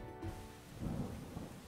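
Thunder rumbling low under steady rain in the opening of Wargroove, a rainy night at Cherrystone Castle, quiet and brief with no voices.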